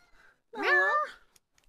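A single drawn-out cat meow, clear and close, lasting under a second with quiet around it.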